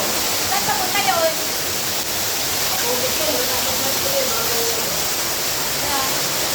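Strong rushing water roars in a loud, unbroken wash inside an underground river cave in Cavinti, Laguna, with faint voices barely rising above it.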